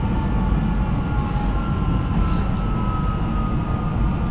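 A train running on a short single-track line into Shorncliffe, a steady low rumble with faint whining tones, continuous and fairly close with no voices.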